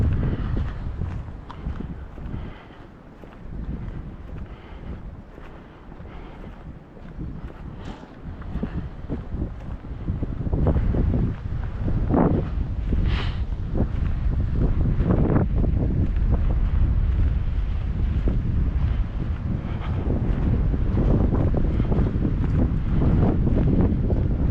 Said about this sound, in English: Wind over here.